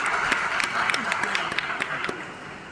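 Audience applause at the Bundelkhand University foundation day ceremony in Jhansi, a steady wash of many hands clapping with individual sharp claps standing out, moderately loud, with some voices mixed in underneath.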